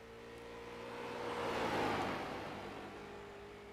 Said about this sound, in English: Thomas Axum is the final car out on track here